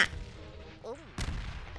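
Bombs burst in a video game about an army of ants: one loud blast at the start and a second heavy boom about a second later, with a short rising tone between them.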